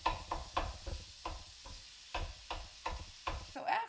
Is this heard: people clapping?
no